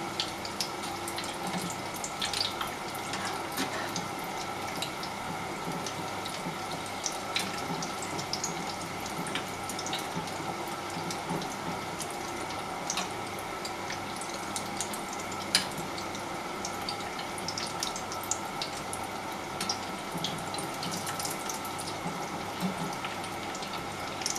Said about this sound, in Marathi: चांगले असे गोल्डन झाले पाहिजे तसे फ्राय करून घ्या.